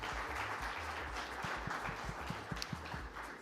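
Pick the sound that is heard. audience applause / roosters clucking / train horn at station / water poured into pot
audience applause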